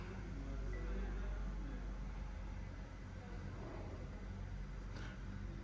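2025 Jetour Dashing 1.5T engine running at idle after a push-button start, a steady, even low hum with faint road-like noise and no revving.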